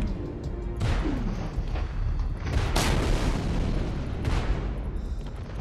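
A howitzer cannon fires in the Space Engineers game, three loud booming blasts spaced a couple of seconds apart over a dense rumbling battle background.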